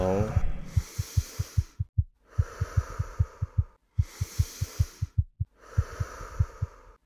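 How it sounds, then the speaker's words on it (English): Pulsing heartbeat sound effect from the video game Split Mind, fast steady thumps in loud repeating bursts, with heavy breathing-like noise between the beats. "This heartbeat is like panic inducing to hear."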